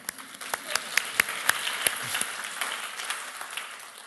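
A small audience claps at a kindness-themed talk, a thin spread of hands with several sharp, distinct claps standing out near the microphone, fading toward the end.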